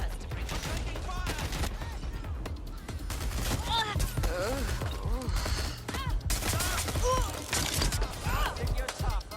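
Rapid, sustained gunfire rattles through a shootout in Watch Dogs Legion, continuous bursts layered with shouting voices and clanking mechanical noises throughout.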